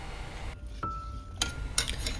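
A spoon stirs Kerala-style sweet potato curry without coconut, with coconut oil and salt, in a pressure cooker pot, giving a few light, sparse metallic clinks against the pot in a quiet kitchen.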